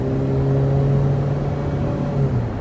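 Honda D17 car engine running steadily and noisily, a constant low hum with droning tones, close and fairly loud, with no voices.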